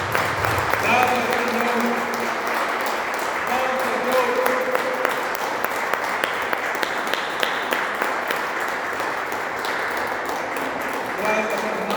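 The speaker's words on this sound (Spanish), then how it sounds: "Dale un aplauso al Señor por su misericordia." Applause from a church congregation fills the room steadily, a dense wash of clapping that carries on throughout while a voice speaks over it.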